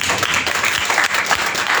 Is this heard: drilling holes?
no